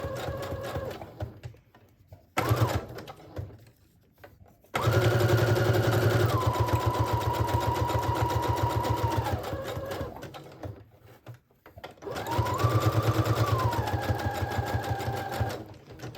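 A sewing machine stitching a regular stitch around the edges of fabric tags made from dollar store fabric, running in steady whirring bursts with short stops between, close and loud.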